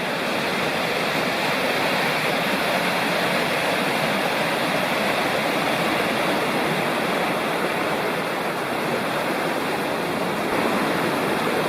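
Continuous rushing of flowing water at the junction of two creeks forming Sycamore Creek in Cherokee National Forest, a dense, steady wash tumbling over rocks, close and loud throughout.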